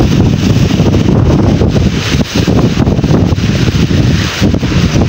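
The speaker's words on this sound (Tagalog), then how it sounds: "tsaka ngayon pa lakas ng hangin" Strong storm wind roars steadily and loudly into the microphone, a dense, buffeting rush with constant gusty rumble and no pauses.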